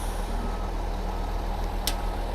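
Cement truck reversing at a house foundation and slab pour site, a steady low diesel rumble droning throughout with one short high hiss or beep near the end, close and fairly loud.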